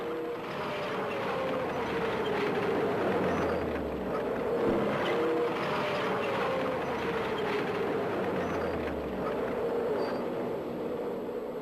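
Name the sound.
Strv 103 S tank moving forward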